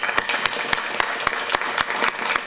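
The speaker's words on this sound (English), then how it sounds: "Can we please give these young ladies a round of applause?" Audience applause at a school board regular meeting, steady dense clapping with sharper individual claps throughout, fairly loud and continuous with no talk over it.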